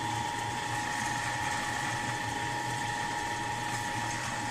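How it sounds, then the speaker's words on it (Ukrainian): A pellet mill runs steadily while making compound feed for rabbits, a continuous mechanical whir with a steady hum and dense grinding noise throughout, close and even in level, with no talk. "Гранулятор крутиться, комбікормик."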